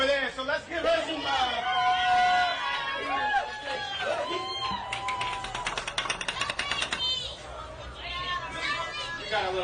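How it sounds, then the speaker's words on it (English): A crowd gathers at an Essence Fest 2022 cooking event, with lively overlapping chatter and murmuring voices around a nearby speaker, plus scattered clattering and bustle at a steady, moderate level. "We got a little crowd going on here, ladies and gentlemen."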